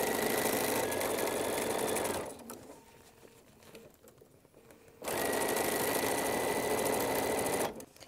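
A sewing machine runs in two steady bursts, stitching fabric for reusable bowl covers: a continuous whirring drive for about two seconds, a quieter pause, then a second run of nearly three seconds, close and clear with no talk.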